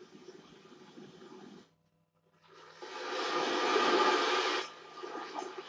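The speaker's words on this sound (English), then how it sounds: "Torrential downpour." A torrential downpour track played as a relaxing sound on an Alexa smart speaker, a dense hiss of heavy rain that cuts out briefly, then returns louder and fuller before easing.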